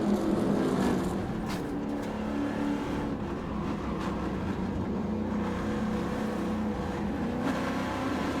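Trans Am race cars at Portland International Raceway accelerating toward turn 10: a loud, continuous roar of multiple V8 engines revving, with overlapping engine notes and passing surges, no clear talk.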